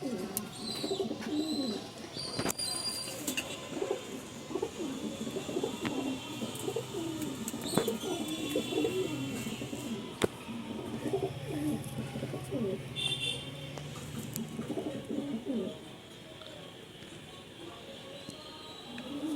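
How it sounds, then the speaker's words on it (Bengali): Pigeons in a loft coo in soft, repeated throaty bursts nearby, with occasional chirps and faint background clatter throughout. "পায়রাটা দেখুন"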